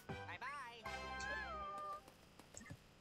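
Hoppycat creatures in Super Mario Bros. Wonder meow repeatedly in bright, wavering cries, several overlapping calls close up over game music and effects.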